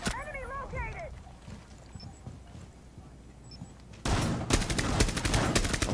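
Rainbow Six Siege gameplay with a dense burst of rapid gunfire erupting loudly after a few seconds of quieter in-game ambience, with a brief voice early on.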